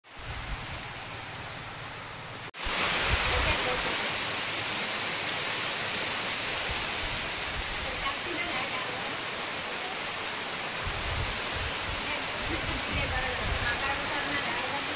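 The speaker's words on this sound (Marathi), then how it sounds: "खूप मोठं पाऊस इलो" Heavy rain pours down at a farm house, a dense, constant hiss that swells suddenly after a brief quieter opening and then holds loud and unbroken to the end.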